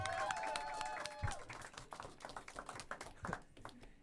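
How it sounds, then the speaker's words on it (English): Audience clapping for a dancer at a live performance by a groove band, a dense patter of many hands over room noise, fading toward the end. "Everybody clap it up for the beautiful lady that danced with me"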